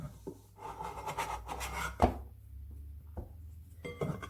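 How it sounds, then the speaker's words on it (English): Bread dough scraped out of a bowl onto a work surface, giving soft rubbing, rasping scrapes with a sharper knock near the middle, close up and fairly quiet. "then use it to scrape my dough out onto here."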